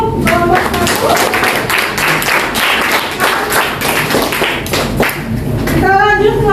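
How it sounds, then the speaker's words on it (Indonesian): A classroom group applauds a presenting group, loud dense clapping from many hands continuing throughout, with a voice starting at the end. "Kalau sudah kita beri tepuk tangan untuk kelompok 1."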